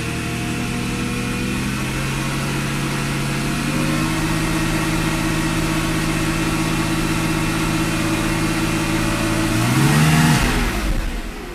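A Mercedes V8 engine revs steadily after throttle body work, holding a loud, close drone that swells into a sharper rise near the end.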